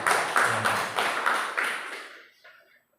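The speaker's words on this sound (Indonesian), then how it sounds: "Ya, berikan tepuk tangan." A church congregation claps along in a worship service, several bright sharp bursts of clapping in a loose rhythm that fade out and stop near the end, with no talking.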